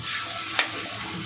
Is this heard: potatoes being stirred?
yes